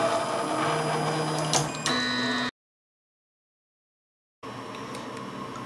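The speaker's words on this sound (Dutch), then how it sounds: "Nu staat de printer weer aan en we gaan nu eerst naar Prepare en dan doen we even Auto Home." 3D printer running its auto-home routine, with steady stepper motor whine and short clicking movements, then a sudden cutout into silence before the motor hum resumes.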